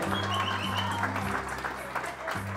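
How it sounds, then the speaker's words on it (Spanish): Guests at a quinceañera party clap for the godmother. The applause is brief and moderate, heard over steady background music. "Un fuerte aplauso para ella,"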